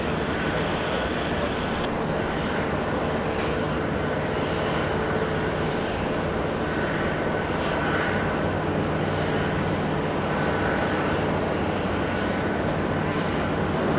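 A jet airliner departs from JFK airport, its engines producing a broad, sustained roar that stays loud and steady throughout, with wind buffeting the microphone and no clear talk.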